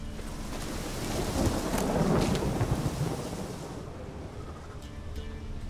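Thunderstorm in The Witcher 3, with a rolling rumble of thunder that swells in the middle over steady rain, then eases to a softer patter.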